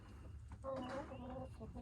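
Backyard hens cluck and murmur close by, a few soft calls rising over a low steady hum, with a voice speaking briefly among them.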